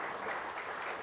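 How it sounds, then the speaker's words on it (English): An audience at a convention session gives a burst of dense, continuous applause, heard briefly from within the hall. "Can we have a big round of applause"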